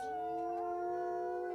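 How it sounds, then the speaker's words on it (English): Wolf pack howling in the game WolfQuest, several long overlapping howls held as sustained tonal wails, layered and fairly loud without any break. "Clover Flats pack howling back"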